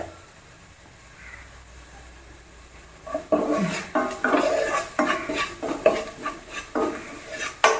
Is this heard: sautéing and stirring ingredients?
yes